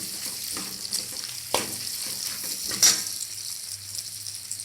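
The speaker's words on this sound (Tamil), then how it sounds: "நல்லா வதக்குங்க." Cooked rice with ivy gourd and peanut powder sautés in a pan, giving a continuous close sizzle broken by spatula scrapes and stirring knocks, with one sharper clatter near the end.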